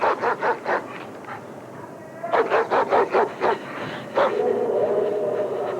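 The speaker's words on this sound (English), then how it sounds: "They had a dog on a chain, a huge German shepherd, barking his head off at me." A dog barks in quick repeated bursts, two volleys of sharp woofs with a short pause between, fairly close and loud over a steady rumbling background.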